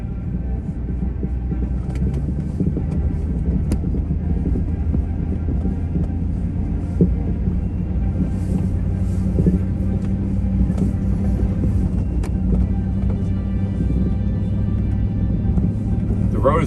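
Truck engine rumbling steadily while driving down a mountain road through a 60 mph blizzard, a constant low drone with faint rattles and wind, a voice talking over it.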